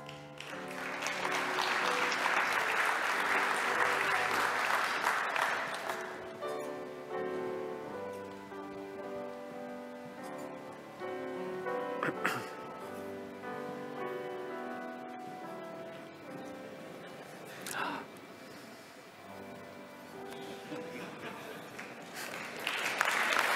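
Applause from a university academic ceremony audience swells at the start, then fades under sustained music for most of the stretch, with brief clapping bursts returning near the end.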